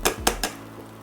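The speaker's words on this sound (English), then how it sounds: "And then just mix that in." A utensil mixing grated ginger in a pan, three quick sharp scraping clinks of metal on metal close up, followed by quiet.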